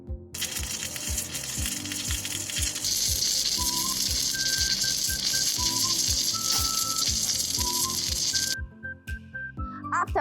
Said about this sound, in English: Now you can see this is our Gantry Welding Machine and the Cantilver Welding platform.